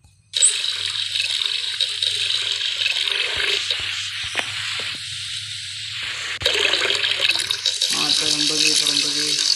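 Water runs from a tap while being filled in the Hello Neighbor video game, a steady rushing stream with a few clicks and clunks, against a low droning game background.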